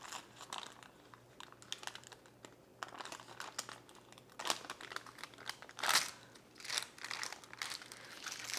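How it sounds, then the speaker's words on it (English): Frosted raspberry cheesecake cookies peeled off parchment paper, giving faint, close crinkles and irregular crackling rustles, with louder bursts of paper crumpling scattered through a quiet background. "So first let's try to peel them off of the parchment."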